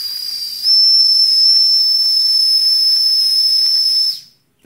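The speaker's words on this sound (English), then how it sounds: "That's a relief valve" Steam escaping from the relief valve of a Weeden toy steam engine, a loud, close, shrill whistling hiss that starts softer, swells, holds steady for several seconds and then cuts off abruptly.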